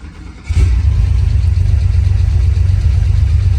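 A 1974 Porsche 911 Targa Turbo engine catches abruptly after a brief quiet moment, then settles into a steady, loud, throbbing idle that runs close and alone to the end.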